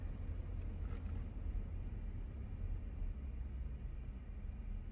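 A car with slotted and drilled brake rotors cruising at about 45 on a test drive, heard from inside as a steady, low road-and-engine rumble with faint hiss, unbroken and with no voices.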